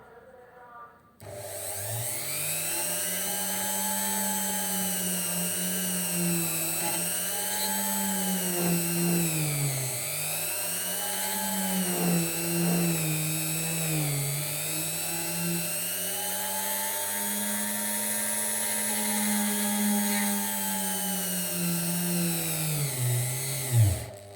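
A power drill boring through a prayer bead whines continuously for a long stretch, its pitch rising and dipping as the load changes, close by and steady.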